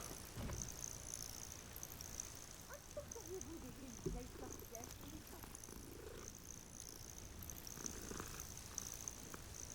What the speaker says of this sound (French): Salut le chat!